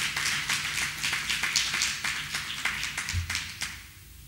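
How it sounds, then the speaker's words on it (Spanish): A church congregation claps in unison during a Spanish-language service, a steady rhythmic pattern of hand claps at a moderate distance that softens toward the end. "Dale un aplauso al Señor"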